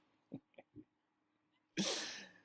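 A sharp, loud sneeze bursts out close by after a few soft sniffs and breaths in an otherwise quiet room.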